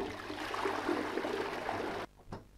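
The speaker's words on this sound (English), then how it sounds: "Flush again." A toilet flushing in a horror video game, a steady rushing gurgle of water that cuts off abruptly, followed by a brief faint after-sound in a quiet room.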